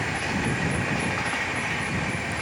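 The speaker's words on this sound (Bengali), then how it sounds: "ব্যাকগ্রাউন্ড ট্রেন যাচ্ছে" Local train passing at a distance, a steady, even rumble with a faint high whine above it, continuous for the whole stretch with no voices over it.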